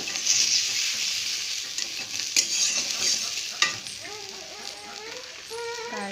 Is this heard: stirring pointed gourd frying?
yes